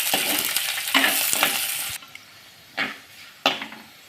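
Onions frying in a pan for a roasted-coconut fish curry, with a steady close sizzle broken by a few distinct scraping stirs and clatters of a spoon against the pan.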